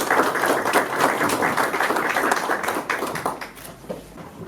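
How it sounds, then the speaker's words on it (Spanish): Dense, steady applause from an audience at an evening exhibition event fills the room, a continuous wash of many hands clapping with no voices on top. "Por favor, un fuerte aplauso."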